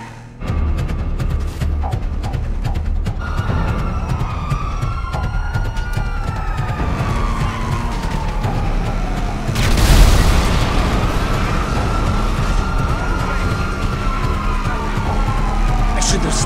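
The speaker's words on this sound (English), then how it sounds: "I used my toy siren and cruised right through." Police sirens in the video game GTA V wail with long rising and falling sweeps over a heavy engine rumble, loud and continuous, with a sudden crash or bang partway through.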